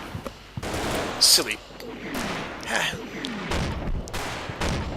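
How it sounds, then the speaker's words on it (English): Mortar and gunfire in the Combat Mission wargame, Operation Bluecoat battle, with distant thudding impacts and scattered rattling shots under a voice, moderately loud and rumbling throughout. "my mortars are falling on the right flank there"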